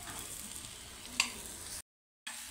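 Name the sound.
eggplant and potato mixture being stir-fried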